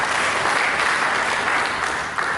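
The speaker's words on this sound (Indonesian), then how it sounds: "Berikan tepuk tangan bagi Tuhan Yesus." A church congregation applauds, a loud, dense wash of many hands clapping steadily throughout without a break.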